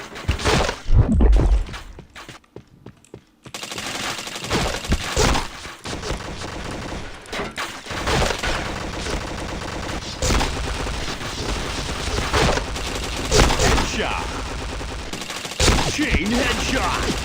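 Video game gunfire scoring headshots rattles in rapid bursts and single cracks, loud and close, with brief pauses between volleys and a dense, clattering mix throughout.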